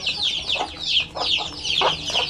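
Native chickens peep and cluck repeatedly in short, bright bursts close by, with a busy chorus of small calls and no talk.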